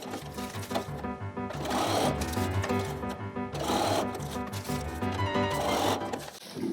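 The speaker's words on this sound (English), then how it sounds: "let's just go ahead and do all the sewing on our TRP line now" Sewing machine chain-stitching quilt block pieces along a line, running in steady mechanical bursts with brief pauses between seams, close and fairly loud over a low motor hum.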